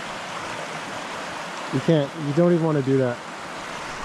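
Rushing water of Crazy Mans Creek pours in a loud, constant broadband roar close by, with someone speaking briefly over it.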